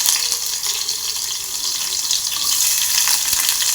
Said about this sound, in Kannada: ಸ್ವಲ್ಪ ಜೀರಿಗೆ, ಒಂದು ಗಡ್ಡೆಯಷ್ಟು ಬೆಳ್ಳುಳ್ಳಿ ಜಜ್ಜಿ ಇಟ್ಕೊಂಡಿದ್ದೀನಿ, ಅದನ್ನು ಹಾಕ್ತಾಯಿದ್ದೀನಿ